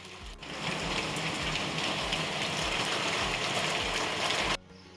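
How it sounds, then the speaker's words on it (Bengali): Heavy rain pours down steadily and loudly on a cloudy morning, a dense unbroken hiss that holds for several seconds before cutting off abruptly near the end. "এই যে দেখুন মুসলধারে বৃষ্টি নেমেছে সকাল থেকেই আকাশটা একদম মেঘে ঢাকা ছিল আর নেমে পড়লো এই যে বৃষ্টি"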